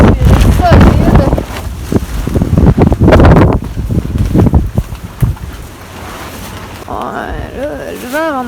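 Strong gusty wind buffets the microphone with loud rumbling blasts outdoors during a Halloween 2018 vlog, easing toward the end while people talk and a voice rises and falls.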